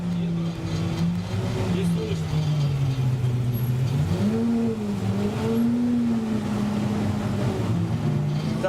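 BRDM-2M military armored vehicle with a 4-speed gearbox, its engine droning steadily close by as it pulls away, pitch rising and falling with throttle while someone talks over it.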